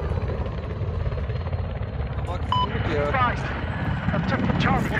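Helicopter rotor and engine drone from the Battlefield game map Siege of Shanghai, a steady loud whir running through the whole stretch with gunfire and effects mixed in, while players talk over it.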